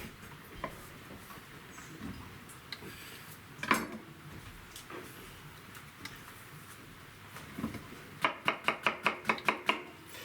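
Ripe plantains chopped with a knife on a board for plantain jam: scattered soft cuts and knocks over a quiet kitchen background, ending in a quick run of about eight crisp, evenly spaced chops close by.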